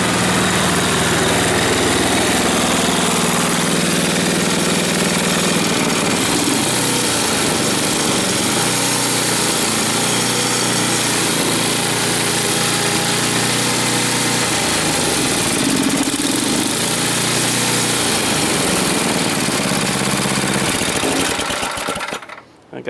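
A snowblower engine running steadily at idle after a tire repair, a continuous loud mechanical drone with rattling vibration throughout, cutting off abruptly at the very end.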